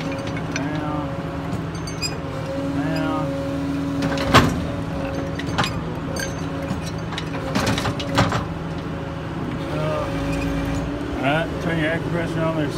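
The winch on a 2008 Ford F-550 diesel mechanics service utility crane truck winds up, with a steady mechanical hum and whine over the idling engine and a few clunks and clicks.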